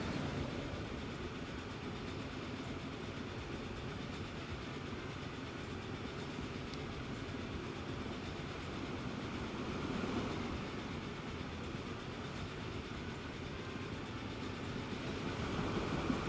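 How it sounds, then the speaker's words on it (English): A train rolls past in the rail simulation game Transport Fever 2, giving a steady, moderately loud rumble with a faint clatter that holds evenly for about sixteen seconds and swells slightly near the end. "wondering if we're going to see a passenger train go pass us"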